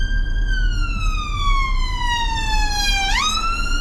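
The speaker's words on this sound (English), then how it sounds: "See ambulance coming up, so we just gonna stay here, give a little room to the ambulance" A loud, close ambulance siren wails steadily as the ambulance approaches a stopped car, its tone sliding slowly downward before sweeping back up, over a low rumble of traffic.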